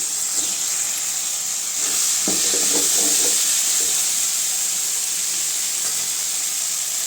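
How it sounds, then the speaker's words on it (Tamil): Brinjal and okra sauté in a pan with a steady, close sizzling hiss, joined midway by a brief patch of clattering as the vegetables are stirred. "கத்திரிக்காய் நல்லா வதங்கிடுச்சுங்க இப்போ வெண்டைக்காய் சேர்த்துக்கலாம்"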